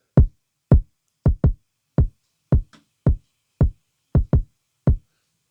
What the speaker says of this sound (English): So for this beat, I actually started with the kicks